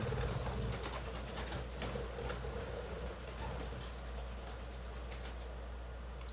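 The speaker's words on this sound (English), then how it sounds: "my birds are going a little crazy" Pet birds calling noisily indoors, a scatter of repeated chirps and squawks over a low steady room hum, moderately near and fairly faint, with no talking.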